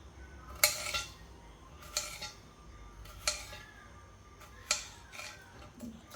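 A knife knocks against a dosa griddle used as a cutting board, cutting potatoes for French fries in several sharp, irregularly spaced cuts, close by, with no talking.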